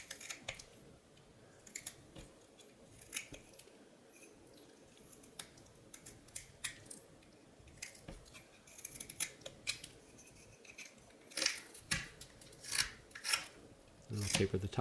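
A knife whittling a wooden plant stake, with repeated short scraping and shaving cuts in an irregular rhythm, close and fairly quiet, growing busier toward the end.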